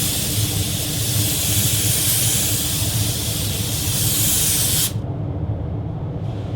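A spray gun lays the final paint coat onto a repaired car body, a loud, steady hiss that runs unbroken for about five seconds before cutting off sharply, leaving a faint low hum.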